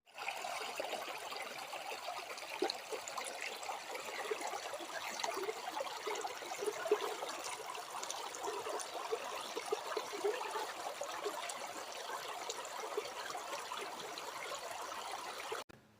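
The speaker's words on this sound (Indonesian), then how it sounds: "Air mengalir" Water flowing steadily makes a soft, continuous trickling stream with faint splashes, moderately quiet and unbroken throughout, with no voices heard.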